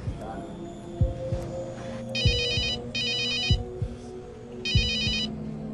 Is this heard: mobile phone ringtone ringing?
yes